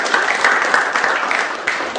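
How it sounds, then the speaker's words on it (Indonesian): A school class claps together, a dense burst of close applause lasting the whole moment with uneven peaks and no talking. "Tepuk tangan untuk kalian semua."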